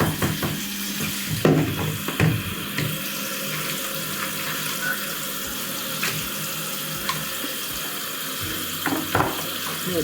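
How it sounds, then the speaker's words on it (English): Water runs steadily from a tap as parts of an aquarium canister filter are rinsed under it, with occasional splashes and knocks of plastic against the sink over the continuous flow. "give everything a good rinse before returning the canister to its original location"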